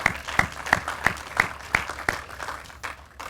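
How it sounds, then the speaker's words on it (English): A round of applause at a news conference on the 18th and Vine redevelopment, sparse individual claps with a distinct rhythm, fairly close and moderately loud, with no talking over it. "please let him know that this round of applause is for him"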